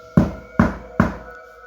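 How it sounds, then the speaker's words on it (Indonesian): Three loud, evenly spaced knocks on a back door, each a sharp thud with a short ringing decay, about half a second apart in an otherwise quiet room with no voices. "Suara ketukan kembali terdengar. Kali ini lebih keras."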